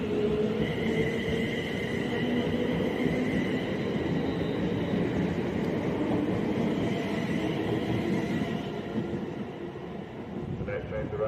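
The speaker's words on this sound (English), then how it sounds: "Train to arrive at platform 2 with a 1440 Avanti West Coast service to London Euston." A train runs through Coventry station on the West Coast Main Line, a steady loud rumble and rail roar holding for most of the stretch before easing slightly near the end, with no voices over it.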